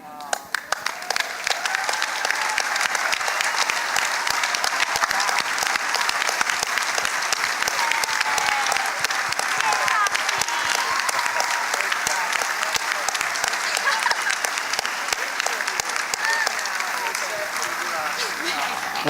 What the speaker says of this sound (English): receive the round of applause they deserve.